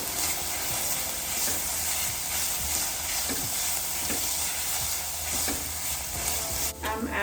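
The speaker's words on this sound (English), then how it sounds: "I'm also adding some garlic. Little bit of butter too." Garlic and butter sizzle and fry steadily in a pan while being stirred, a continuous close crackling hiss with occasional scraping, no voices.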